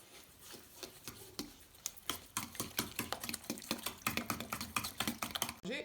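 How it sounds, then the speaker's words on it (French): Close, busy stirring of yogurt cake batter with lemon zest: rapid, steady clicking and scraping strokes of a utensil against the bowl that grow quicker and louder, with no talking. "On mélange."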